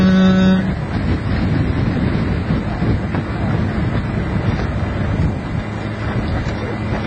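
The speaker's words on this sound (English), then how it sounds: "The wind's blowing like hell." Strong wind buffets a microphone aboard a boat on the Nile near the Luxor temple in Egypt, a constant loud rumbling roar with gusty fluctuations throughout and a brief tonal hum at the start.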